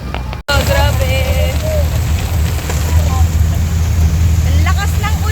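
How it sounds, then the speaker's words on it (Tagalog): Heavy rain beside a river, a loud steady roar of downpour with chirping birds and voices calling faintly through it. "Ang lakas ng ulan."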